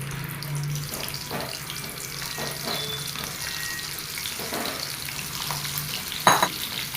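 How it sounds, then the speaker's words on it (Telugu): Indian gooseberries frying in hot peanut oil, a steady close sizzle broken by several soft bursts of spattering and a brief sharp clatter near the end. "పల్లి నూనె బాగా హీట్ ఎక్కాక ఉసిరికాయలు వేయండి"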